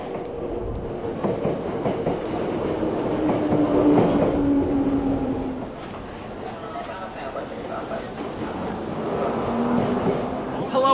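A Tokyo Metro train runs along the rails with a steady rumble, a wheel squeal rising in the middle and some clicking from the track, close by and continuous.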